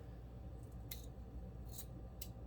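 Scissors make three quick, crisp snips while cutting a dovetail end into a fall sign ribbon, close and faint over a low background hum.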